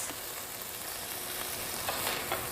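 Beef sizzles in a skillet with a constant hiss, and a few soft stirring scrapes appear near the end. There is no speech.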